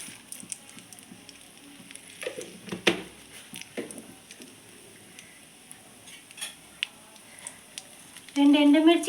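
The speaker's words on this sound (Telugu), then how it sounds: "కొద్దిగా పోపు దినుసులు వేస్తున్నానండి." Mustard seeds and other tempering spices frying in a little hot oil in a pan on a stove, a soft crackling sizzle with scattered pops, then a louder, steadier hiss near the end.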